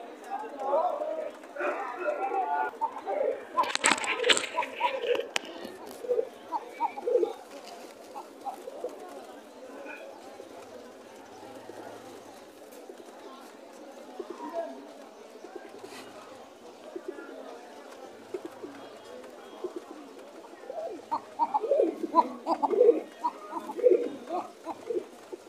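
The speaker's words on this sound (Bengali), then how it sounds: "যতটুকু পারলাম দেখানোর চেষ্টা করলাম আপনাদের কখার ডাক।" Pigeons coo softly in bursts at the crowded Mirpur 1 pigeon market in Bangladesh, mixed with wing flutters and market chatter, with people talking nearby throughout.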